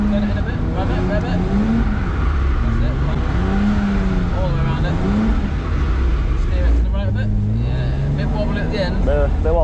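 BMW E46 drifting around a cone, its engine loud and close, revving up and down in repeated swells against continuous tyre and road noise, with people talking over it.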